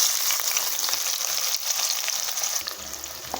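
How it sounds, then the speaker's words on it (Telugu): Thinly sliced onions deep fry in oil in a pressure cooker over high flame, a steady, loud hissing sizzle close by with no talking. "కుక్కర్ పెట్టి ఆయిల్ వేసేసుకొని ఇప్పుడు ఆనియన్స్ని ఫస్ట్ డీప్ ఫ్రై చేసేసుకుందాం"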